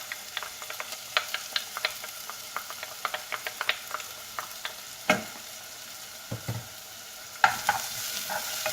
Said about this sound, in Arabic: اول حاجه كنزيدو البصله والثومه كيتقلاو.